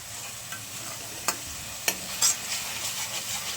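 Vegetables frying in oil in a large kadhai, a steady soft sizzle with a few sharp clicks of a spoon stirring against the pan, close and alone.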